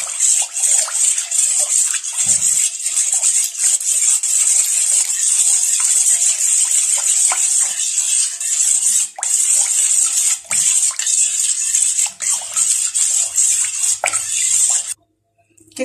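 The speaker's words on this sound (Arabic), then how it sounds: "هندوز الثوم مع المية مع الخل مع الليمون مع التوابل بتاعتنا" Garlic, water, vinegar, lemon and spices are mixed together in a pickling brine for stuffed eggplant, making a loud continuous watery sloshing with scattered clicks that stops abruptly near the end.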